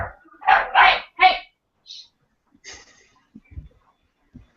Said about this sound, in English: My dog really likes to bark at birds